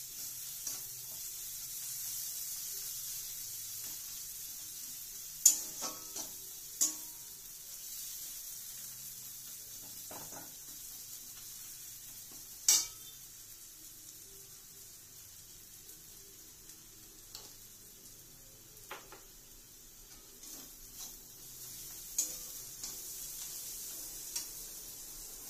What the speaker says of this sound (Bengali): ওটাকে আবার নাড়াচাড়া করা হচ্ছে